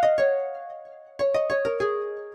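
Plucked synth notes from the String Deep Harp 1 preset ring out, two quick strikes, a pause, then a fast run of five more with long shimmering decays.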